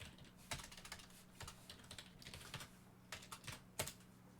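Quiet keystrokes on a computer keyboard while entering text into a computer-aided dispatch system, scattered irregular taps with short pauses, faint and close, with no talk.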